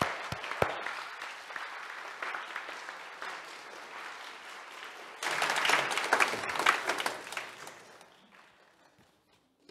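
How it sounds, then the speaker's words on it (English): An audience at a church evening service applauds young people for song leading and speaking, clapping steadily before swelling louder midway, then tapering off to near silence. "Let's give all these young folks a round of applause"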